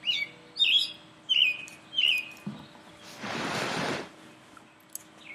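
A bird close by gives four quick bright chirps in a row, then a soft rustling burst follows before a single faint chirp near the end, heard alone in a quiet outdoor setting.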